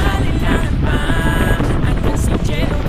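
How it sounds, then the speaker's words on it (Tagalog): Heavy rain and wind outdoors in Daes, a loud continuous roar with microphone buffeting and scattered splashes, close and steady, with faint talk underneath. "Yan, malakas ang ulan, grabe."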